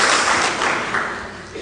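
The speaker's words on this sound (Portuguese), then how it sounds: "Dê uma salva de palmas a Jesus." A church congregation claps and applauds during a worship service, a loud, continuous wash of hands that slowly eases off, with voices mixed in.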